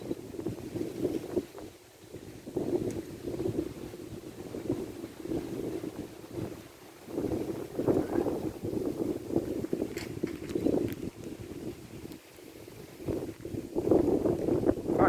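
Dry outdoor wind blows in gusts against the microphone, a rough rumbling roar that swells and eases several times, strongest toward the end.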